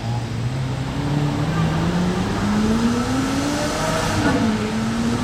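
A Lamborghini SVJ's exhaust drones and rises in pitch as it accelerates past in Monaco, loud and nearby, over a background of other traffic.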